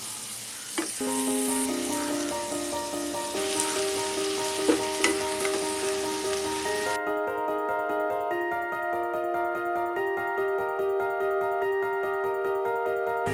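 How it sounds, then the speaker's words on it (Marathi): Fresh small shrimp (jawla) go into a pan of well-cooked onion, tomato, garlic paste and kokum and fry with a steady, close sizzle, while tonal background music plays throughout. "आता ओला जवळा आतमध्ये टाकायचा"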